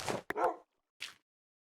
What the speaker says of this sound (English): woof! That was the distant woof, but Wolfie's ready.